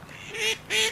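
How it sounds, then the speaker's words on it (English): A small puppy gives two short, nasal, honking squeaks, close and fairly faint, resembling a duck's quack. "It seriously sounds like a mixture of a duck, a pig, and a baby."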